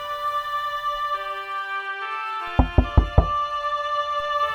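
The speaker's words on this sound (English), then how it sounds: "until at last the captain knocked on the door" Four sharp knocks on a door land in quick succession, loud and close, over a sustained musical drone in a fantasy fairy-tale story, with no voices.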